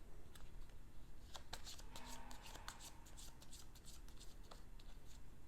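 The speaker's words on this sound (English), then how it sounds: "Next, we shuffle the intrigue cards." Game of Thrones Clue intrigue cards are shuffled in quick riffling bursts, crisp and close, with faint ambient noise underneath and no voices.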